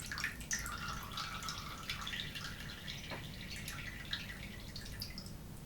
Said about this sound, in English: So we'll pick this up, let it drain for a few seconds.